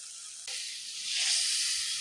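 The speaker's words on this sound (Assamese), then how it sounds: "মাছখিনি ভালদৰে ভাজা হৈ গৈছে" Small chana fish sizzle in hot oil in a wok, a steady close hiss that swells louder partway through, with no voices.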